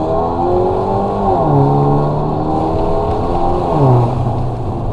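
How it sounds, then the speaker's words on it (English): Stage 2 tuned Mercedes CLA pulling hard in second gear, the engine loud and close as it climbs in pitch, drops briefly at a shift, and climbs again, with no speech. "right now we're about to do second gear pull"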